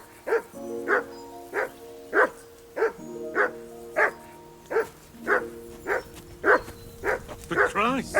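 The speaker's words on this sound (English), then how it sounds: "Be quiet, you flea-bitten hound." A dog in the video game Kingdom Come: Deliverance II barks repeatedly in a steady rhythm, about a dozen close, loud barks, with a yelp near the end and faint low background ambience.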